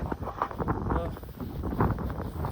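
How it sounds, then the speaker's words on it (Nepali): Wind blowing across a steep hill path climbing toward a ridge in cold weather, buffeting the microphone with a continuous low, rough rumble that rises and falls in gusts for the whole stretch. "अब हेर्नु यता पनि हावा चलिरहेको रहेछ"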